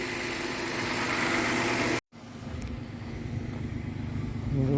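A 2015 Toyota Sienna 3.5 V6 with an ignition coil fault runs just after startup while clearing throttle body cleaner, a steady close engine drone with a brief cut in the middle before the idle resumes and builds again.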